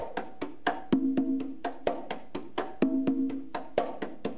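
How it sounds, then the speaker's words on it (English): Conga drums play a steady, repeating tumbao rhythm of sharp slaps and ringing open tones, close and clear, with no voices. "the melody that you heard on the introduction is called Tumbao"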